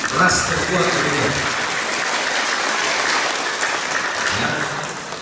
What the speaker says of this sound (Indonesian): kita tepuk tangan untuk ras terkuat dunia